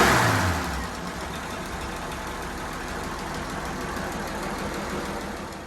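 A 1953 Chris Craft boat engine, converted to 12 volts with electronic ignition, runs smoothly at a steady idle, a little louder at the start and then an even, continuous rumble with no talking.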